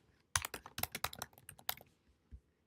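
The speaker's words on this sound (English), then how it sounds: "You'll type in your stuff here" Keys clack on a computer keyboard in a quick burst of typing, close and fairly quiet, trailing off into a few isolated taps.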